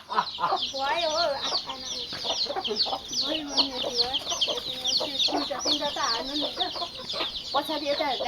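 Local chickens clucking and squawking while being fed at a village house in Nepal, a busy, continuous chorus of close clucks with a voice speaking faintly underneath.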